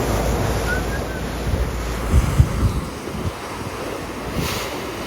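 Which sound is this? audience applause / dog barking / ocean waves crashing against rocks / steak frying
ocean waves crashing against rocks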